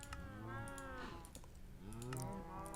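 Cows in a modded survival video game give two drawn-out moos, one early and one late, with light computer keyboard clicks scattered underneath.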